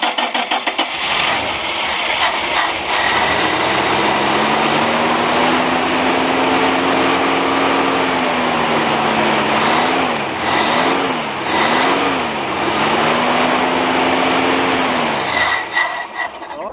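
A classic truck engine cold-starting after cranking, catching and settling into a loud, close, rough idle with a few revving surges before it dies away near the end.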